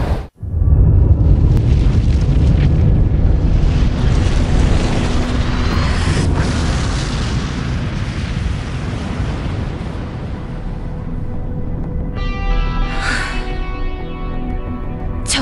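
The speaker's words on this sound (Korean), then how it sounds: "저별마저도 폭발해버렸어." A star explodes in a cinematic from the game Dungeon and Fighter: a sudden massive roaring blast that rumbles on as a dense, loud wash of noise before easing slightly, with a brief airy swell near the end.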